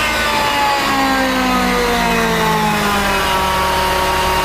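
A Darley 75-foot CAFS quint fire truck's engine winds down steadily toward idle, its pitch gliding lower over several seconds, loud and close with the air compressor and foam systems just switched off.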